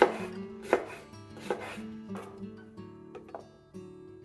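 A knife chops small peppers on a cutting board with a series of crisp, close, irregular thuds, each knock followed by a brief ringing tail.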